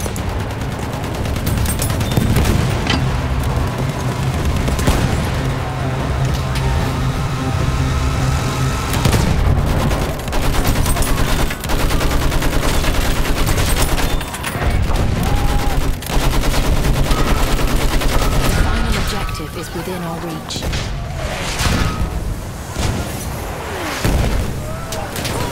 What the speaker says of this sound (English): Machine gun! There!